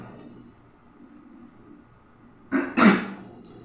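A preacher coughs twice, sharp and close, after a quiet stretch of low room noise in a sermon.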